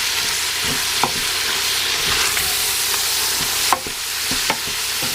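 Anchovies frying in olive oil in a pan for homemade pasta sauce, a loud steady sizzle with occasional sharp stirring clinks and scrapes, no voices.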